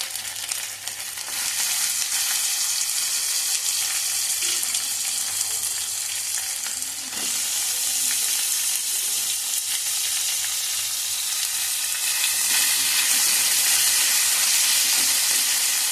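Ginger paste and tomato frying in a pan give a continuous loud sizzle with occasional stirring scrapes, steady and close throughout with no voices.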